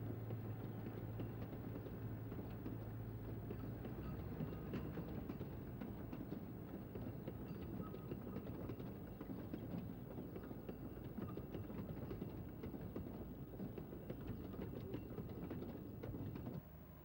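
Romney, Hythe and Dymchurch Railway locomotive hauling a train, a steady rolling rumble of wheels on rails with faint clicking, continuous and moderately close throughout with no voices.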